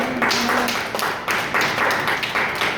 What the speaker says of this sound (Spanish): ¿Cuándo le puede dar un aplauso al Señor en esta hora?